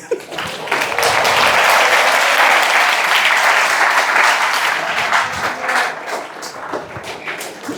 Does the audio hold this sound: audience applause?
yes